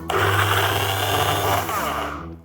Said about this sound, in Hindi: अब इसको भी मिक्सर ग्राइंडर में डाल के पीस लेते हैं।